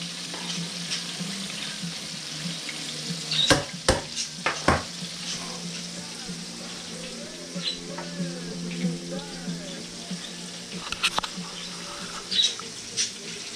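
Chicken wings fry in a pan with a steady, gentle sizzle, broken by sharp clicks and taps of a utensil against the pan as the pieces are flipped.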